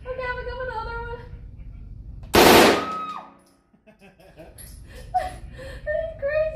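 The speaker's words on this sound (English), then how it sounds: "Okay, and then my first machine gun." A machine gun fires a rapid burst at targets on a shooting range, a loud close rattle lasting under a second that rings out and fades, with people talking and laughing before and after it.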